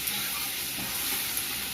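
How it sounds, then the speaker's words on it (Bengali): Garlic fries in plenty of hot mustard oil in a wok, giving a loud, continuous close-up sizzle and crackle with faint stirring, and no voices. "এই রসুনটা ভাজা ভাজা হচ্ছে"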